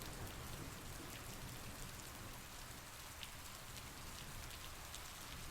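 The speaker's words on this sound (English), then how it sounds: "There's nothing like the deep peace of the forest as the rain pours outside, a soft, rhythmic drumming on the roof" Heavy rain pours steadily on a forest cabin roof, a soft, even drumming with no breaks and no voices.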